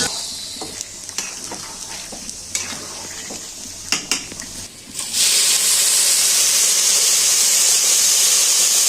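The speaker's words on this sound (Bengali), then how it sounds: "পোলাওতে গরম জল দিচ্ছি" Boiled hot water poured into rice frying in a pot for Shahi mutton biryani, a loud steady rushing hiss and sizzle that starts about halfway through after stirring and clinking of a utensil, with no talk.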